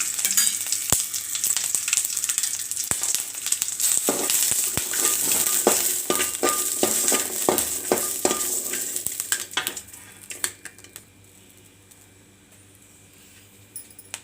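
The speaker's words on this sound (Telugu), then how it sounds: "స్టవ్ పైన ఒక పెనం పెట్టుకొని అందులో పచ్చిమిరపకాయలు వేసి వేయించుకోవాలి" Green chillies frying in a little oil in a pan for a tamarind-leaf chutney, with a loud steady sizzle and scraping stirs for about ten seconds before the crackle fades to a quiet low hiss.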